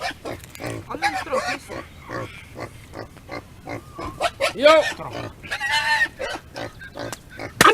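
A pig squeals and grunts in loud, repeated shrill bursts during an outdoor ritual slaughter at a West Papuan independence gathering, with people talking and calling out around it.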